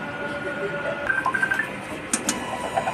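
A sublimation printer's mechanism whirs and clicks during a print head cleaning, with a few short high electronic beeps and mechanical ticks near the end.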